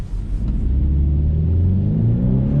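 Volkswagen T-Roc R engine accelerating hard in race mode, a loud, close, steady low rumble with rising revs and no talking.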